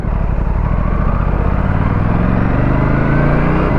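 Aprilia RS 457 motorcycle engine, cold and in its break-in period, at the start of a ride, giving a steady, close, loud low rumble throughout with no talk over it.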